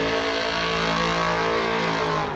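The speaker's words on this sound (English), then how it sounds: "Listen to that engine." Race car engine in the GTR racing game revving hard and steadily, a loud, continuous mid-pitched roar with layered harmonics sustained throughout, close and without talk.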